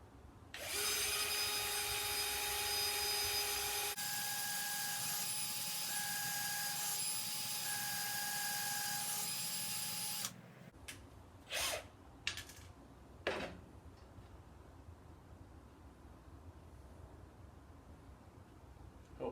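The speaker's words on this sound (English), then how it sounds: "So I'm going to drill pilot holes to make sure I don't crumble the MDF and make it fall apart." Power drill boring pilot holes in MDF whines loud and steady for about ten seconds, changing pitch partway, then stops, leaving a few short clatters and knocks against quiet shop hiss.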